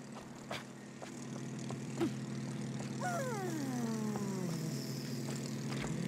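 A propeller plane flies past in the video game It Takes Two, its engine drone rising and then falling steadily in pitch over several seconds against a constant game background hum.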